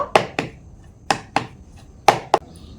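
A bowl of cake batter is tapped sharply several times, crisp knocks in pairs spaced about a second apart, close and clear with no voices.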